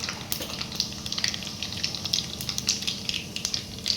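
Cumin seeds crackling and sizzling in hot oil with mustard seeds in a kadai, a steady close frying hiss dotted with small rapid pops, no talking.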